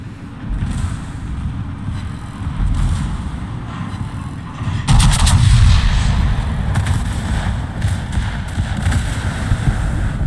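Heavy explosions from a naval air strike hit the cruiser Nuremberg in a video game, a sudden loud blast followed by rumbling booms and crackling impacts over a steady background roar.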